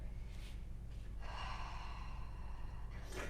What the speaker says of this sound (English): Create that slight constriction at the back of the throat. Creating friction with the breath.